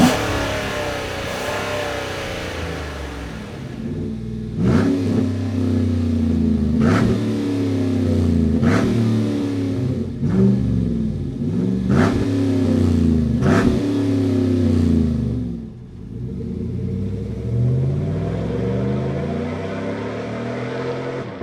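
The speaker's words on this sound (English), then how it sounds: "3-inch catback exhaust with the split rear exit design" A Chevrolet Silverado pickup with a 3-inch catback exhaust and split rear exits idles, then is revved repeatedly in quick blips, rumbling and crackling on each rise before settling back into a deep idle; loud and close.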